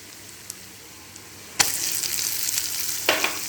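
Onion tossed onto curry leaves fried in oil, for a pepper beetroot fry, sets off a sudden loud sizzle after a quiet start with light clicks, then a steady hiss with a second surge near the end.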